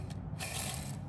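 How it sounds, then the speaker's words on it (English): Loose clutch release bearing from a Ford Focus being turned by hand, giving a quiet, brief mechanical rattle and ratcheting click, close up with no talk. "That is the sound of loose bearings."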